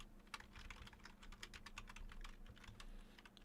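Quiet, steady keystrokes on a computer keyboard as a name is entered, an irregular run of light taps lasting a few seconds with no voices.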